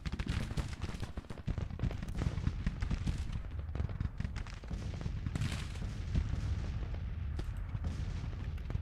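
Continuous rolling volleys of musket fire and booming artillery from a Grand Tactician: The Civil War battle at Perryville, dense and loud with overlapping cracks and deep thuds throughout, no speech.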